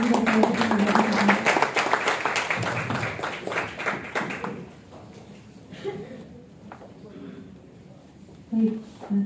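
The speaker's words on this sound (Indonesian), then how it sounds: "Beri tepuk tangan yang meriah sekali lagi dari kita." A crowd at an Indonesian religious gathering claps loudly for about four seconds before the applause thins out, leaving scattered quieter sounds and voices.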